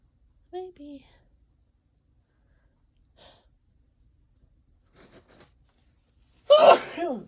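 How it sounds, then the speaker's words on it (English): Quiet breathy sounds and soft voice fragments lead up to a sharp, loud sneeze near the end, close to the microphone. "I got to sneeze."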